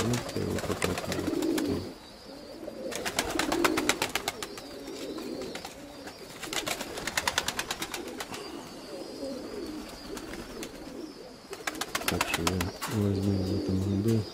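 Pigeons kept by a fancier coo in low, repeated rounds, fairly close, with someone talking intermittently over them and faint clicking and rustling nearby.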